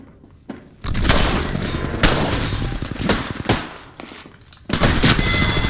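Gunfire in the battle royale game Apex Legends, loud bursts of rapid shots and impacts in several long volleys with brief gaps between them, harsh and close.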